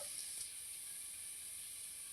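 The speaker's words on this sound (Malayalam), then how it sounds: "1 സ്പൂണ് കാശ്മീരി മുളക് പൊടിയും കൂടി ഇട്ട് കൊടുക്കുക." Kashmiri chili powder sizzles in oil for a jackfruit seed meat curry, a steady soft hiss throughout, faint and alone.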